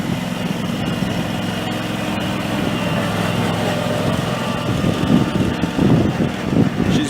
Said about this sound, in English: This is a good opportunity for the oldest to get an opportunity to drive the lawnmower around.